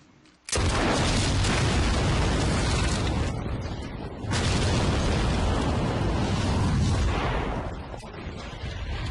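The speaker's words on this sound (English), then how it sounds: "causes all the TNT to explode and cause the bridge to explode and collapse" A stash of TNT detonates and blows apart a bridge, bringing it crashing down in a fiery blast; a sudden loud boom gives way to sustained roaring, rumbling debris that surges again midway and runs the full length without any voices.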